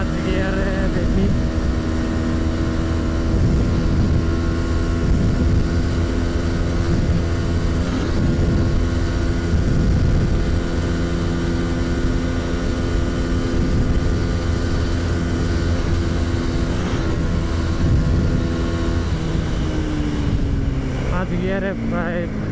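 A GPX 250R motorcycle accelerates in fifth gear, its engine a steady, loud drone with wind buffeting throughout, the pitch climbing slowly as speed builds, and a voice talks intermittently over it.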